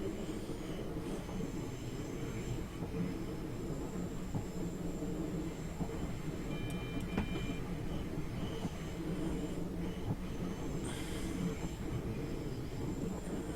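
A steady, continuous train rumble in a video game, running on the Cologne-Koblenz line, rolls on throughout, with a constant low drone and faint high whines, no voices.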